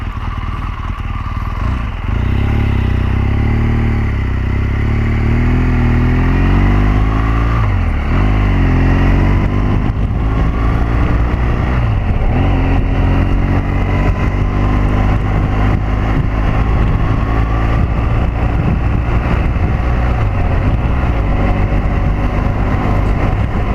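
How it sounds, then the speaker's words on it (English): A 2014 BMW R1200GS Adventure motorcycle being ridden, its engine droning loud and close with rising and falling revs as it accelerates and shifts, steady road and wind rumble throughout, no talking. "But I snuck this ride in just to get my bike on."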